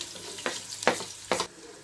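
Chopped onions hit hot oil while cooking haleem, giving three sharp sizzling bursts close by, each flaring and fading over a low kitchen background, without talk.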